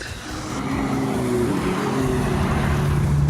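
A new Porsche 911 drives past with a steady engine drone and road noise building in loudness, heard from close by with no talking.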